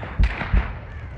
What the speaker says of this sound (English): Or maybe not, I hear gunshots.